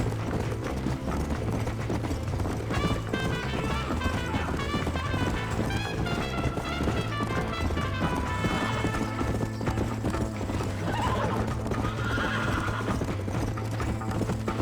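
A horse in the Red Dead Redemption video game gallops with rhythmic clip-clop hoofbeats and neighs over a dense game soundscape of music and ambience, loud and continuous throughout.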